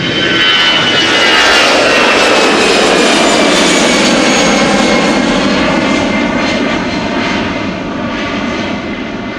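Lufthansa Airbus A320 jet engines at Schiphol Airport roar loud and close, a broad steady whine-laden rush that swells early and then slowly eases as the aircraft moves off, with no voices.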